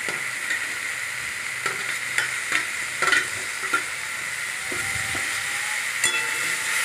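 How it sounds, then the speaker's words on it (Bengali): Fried potato pieces being stir-fried with onion, ginger and garlic spice paste for muri ghonto, a continuous hiss of sizzling oil broken by irregular scrapes and taps of a spatula against the pan. "ভাজা আলু টুকরোগুলো দিয়ে মশলার সঙ্গে কষিয়ে নিচ্ছি।"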